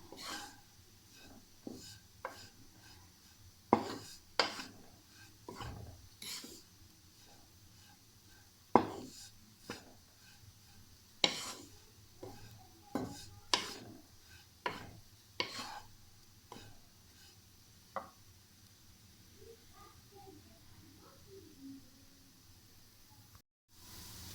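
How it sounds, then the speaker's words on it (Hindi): A spoon scraping and stirring bread halwa in a pan, faint irregular scrapes and taps spaced a second or two apart against quiet background. "चम्मच हमने मुसलसल चलाते रहना है"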